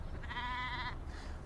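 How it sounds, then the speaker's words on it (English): A single sheep bleats once, a clear wavering mid-pitched call lasting under a second against low background noise. "Its coat is white and woolly. Sheep."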